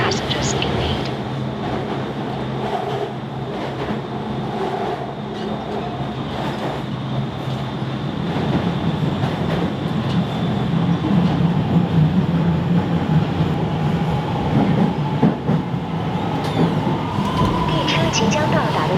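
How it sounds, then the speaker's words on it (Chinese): A Beijing Subway Fangshan line train running, heard from inside the car as a steady loud rumble and rail noise that grows fuller in the second half, with a voice speaking over it. "感谢您乘坐北京地铁房山线。"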